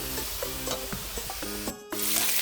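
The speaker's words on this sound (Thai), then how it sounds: "แต่ว่าเราจะผัดให้น้ำมันออก" Pork belly is stir-fried in a pan while its fat renders. A close, bright sizzle is broken by repeated scraping strokes of a spatula, with a short lull before the frying swells louder again.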